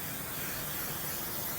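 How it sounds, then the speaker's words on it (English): Basting spray hisses from an aerosol can onto a quilt in one continuous, close, broadband spray burst lasting the whole moment, with no voices. "I do not use a heavy hand on the basting spray"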